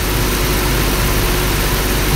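An old motorcycle with no electric starter is kick-started and running, giving a steady, loud engine drone that fills the whole stretch with no talk.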